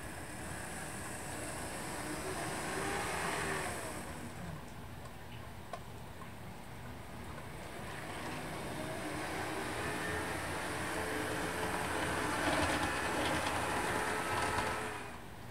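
Two DCC model train locomotives run together on a layout, making a quiet, steady motor hum with faint rhythmic clicking of wheels on track rising and falling, with no voices.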